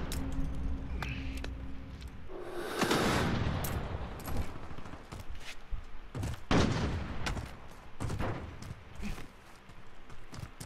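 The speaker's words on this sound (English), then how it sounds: "He got decoy grenades going off." Fake gunfire from decoy grenades in a rifle-versus-LMG video game match, heard as scattered bursts of shots and pops over a continuous noisy background, with a louder burst near the start.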